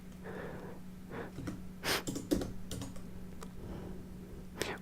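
A command being typed on a computer keyboard, a short quiet run of key clicks with a soft low hum underneath and no speech.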